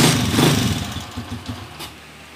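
A TMX 155 motorcycle engine running after an overhaul, a close, loud, chugging idle with an uneven pulsing beat that eases off toward the end.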